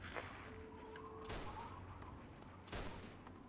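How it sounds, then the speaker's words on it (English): Gunfire from the video game Fallout 3, a few sharp, fairly faint distant shots with a sustained background drone between them. "Who's shooting?"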